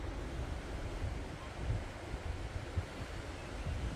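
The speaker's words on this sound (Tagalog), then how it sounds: "Yung agos ng tubig, iba." The Hutt River's current flowing past large rocks, a continuous low watery rush with soft gurgles and faint wind buffeting, steady and moderately close.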